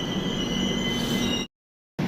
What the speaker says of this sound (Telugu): వివేక్ ఎక్స్ప్రెస్ అయితే ఇప్పుడే మన ప్లాట్ఫామ్ నెంబర్ 1 మీదకి వచ్చింది